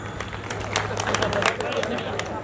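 An audience at a live comedy show claps: a run of scattered, fairly close hand claps over a low hum and murmuring crowd chatter.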